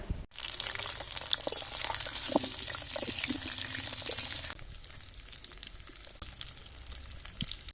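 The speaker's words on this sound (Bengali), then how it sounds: "কড়াই গরম হয়ে গেছে এবার আলুটা ভেজে নেব" Potatoes fry in mustard oil in a hot wok with a loud, steady sizzle and hiss that continues throughout and eases to a softer crackle partway through.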